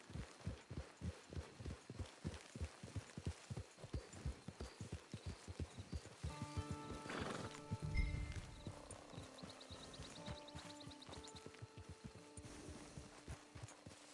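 A horse in the Red Dead Redemption video game, hooves clip-clopping in a steady walking rhythm at close range, then slowing while a brief musical swell and soft game sounds play, without talk.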